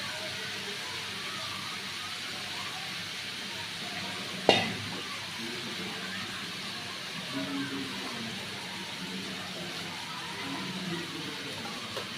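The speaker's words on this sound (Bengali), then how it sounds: "করলা ভাজিটা ভাজা ভাজা করে রান্না করুন।" Bitter gourd (karela) fries in a pan with salt, green chillies and onion, giving a steady close sizzle throughout, broken once by a sharp clack of a utensil against the pan, with no talking.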